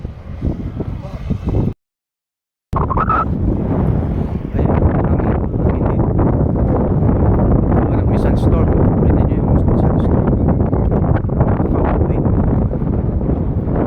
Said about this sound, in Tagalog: sobrang lakas kasi ng hangin dito